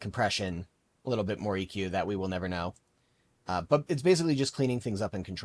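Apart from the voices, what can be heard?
No distinct noise like a dog, phone or traffic.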